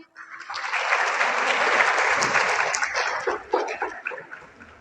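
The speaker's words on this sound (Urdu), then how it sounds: "آپ سے درخواست ہے کہ ایک بار زوردار تالی بجا کر ان کا استقبال کریں۔" A crowd gives loud, sustained applause to welcome a speaker, swelling quickly and then thinning toward the end.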